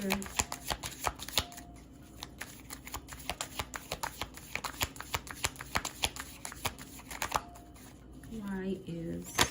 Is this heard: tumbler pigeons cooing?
no